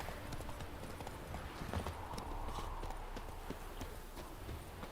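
Geralt's horse Roach from The Witcher 3 trots along, a quiet, rhythmic clip-clop of hooves with soft thuds under a faint game soundscape.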